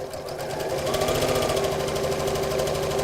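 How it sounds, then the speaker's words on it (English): A sewing machine runs steadily and fast, stitching around the curve of a stuffed bunny with a continuous close whirring and rapid needle chatter, with no voices. "then carry on sewing. Gently around the curve again."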